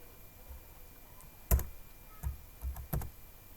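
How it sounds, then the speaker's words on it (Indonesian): A few separate clicks of keys being typed on a computer keyboard, entering a short run of numbers, close and fairly faint with pauses between strokes. "Misalnya saya ketikkan 1 2 3 4 5."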